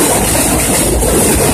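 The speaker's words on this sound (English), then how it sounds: "And the trains pass on above." Elevated trains rumble overhead in Brighton Beach, Brooklyn, a loud, dense roar of wheels and track clatter filling the whole moment without a break.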